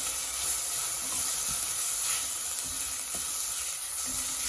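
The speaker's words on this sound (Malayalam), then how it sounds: "ഇളക്കുക." Chopped tomatoes sizzle and fry steadily in a hot pan, with a constant bright hiss and a few soft scrapes and clicks of stirring throughout.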